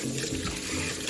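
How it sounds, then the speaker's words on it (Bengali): Rice being washed in water in a home kitchen, a continuous splashing and running-water wash up close, loud and unbroken throughout with no voices. "এবার চালটা ধুয়ে নিলাম দুপুরে"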